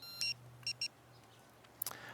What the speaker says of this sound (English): you'll hear 1 beep that indicates that the receiver is now off